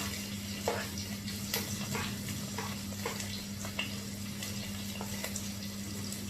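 Spices and onion fry in oil in a pan, a steady close sizzle and crackle with scattered small pops and a low hum underneath, continuous throughout.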